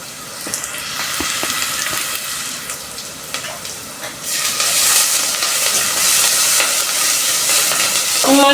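Stew being stirred as it fries in a pot, a steady close sizzle and hiss with scraping stirs, growing louder and brighter partway through, no talk.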